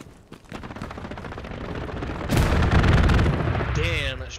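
An aircraft strafing run in the Hell Let Loose WWII game: a long roar of rapid distant gunfire that swells into a heavy, loud burst of impacts near the end.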